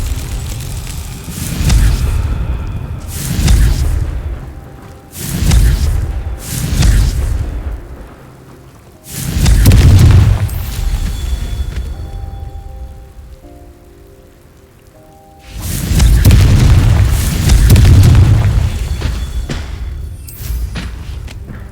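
Confringo fire spells blasting in the game Hogwarts Legacy, a series of loud booming explosions with rumbling tails, several in quick succession, then a pause and two more heavy blasts.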